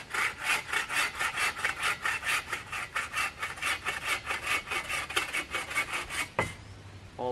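A hand saw trims wooden poles on a bushcraft firewood shed, with steady rhythmic back-and-forth rasping strokes close by, ending in a knock as the cut finishes.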